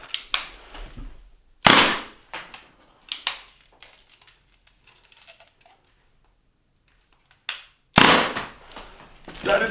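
Toy foam blaster firing tampon rounds, several sharp snapping shots and crinkly handling bursts spaced irregularly, loud and close with quiet gaps between.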